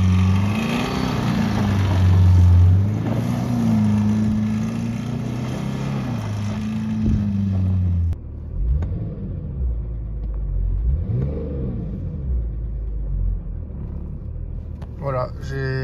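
The diesel engine of a BMW E34 525 TDS runs after an injection pump replacement, idling somewhat unevenly. A close, low, steady rumble shifts pitch now and then, with someone talking over it throughout.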